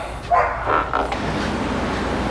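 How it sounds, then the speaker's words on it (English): A dog barks three times in quick succession at moderate distance outside a workshop, over a steady background hiss. "Get away from this damn barking dog."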